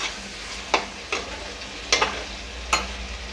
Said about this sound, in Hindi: अब इसको हम ढक कर 5 मिनट इसे भून लेंगे।